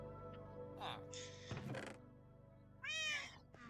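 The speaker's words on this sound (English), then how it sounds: "We've achieved cat." A cat in the Minecraft video game meows a few times, short tonal mews between thuds and game sounds, with a voice talking over parts of it.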